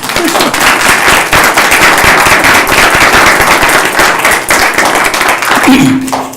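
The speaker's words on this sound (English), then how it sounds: "I think they deserve a round of applause." Loud, dense applause fills a county board of commissioners meeting room, many hands clapping continuously near the podium before fading at the end.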